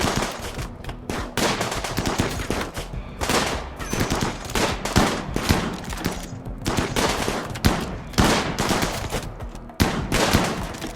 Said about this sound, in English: Gunshot from the bolt action rifle, gunshot from the pump shotgun